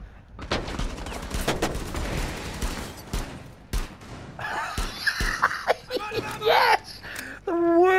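Gunfire crackles in a shooting video game, with rapid bursts and single sharp shots through the first half, then game effects, whimpers and laughter as people react over the action.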